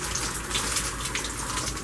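Hot boiling water pouring steadily for making a prison-style burrito, a continuous soft gushing splash heard close and alone.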